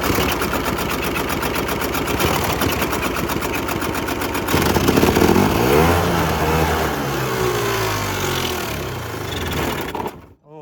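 A Polaris Trail Boss 350 ATV, left abandoned for 15 years, runs with a rapid clattering engine that shifts pitch midway, rising and falling as it revs before cutting out abruptly at the end.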